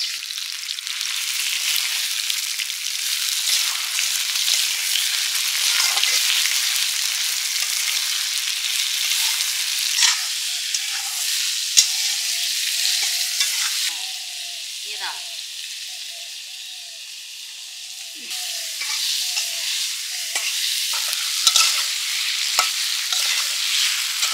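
Spices sizzle and fry steadily in a hot pan for an Indian-style curry, with a spoon scraping and stirring through it in repeated bursts, close and fairly loud throughout.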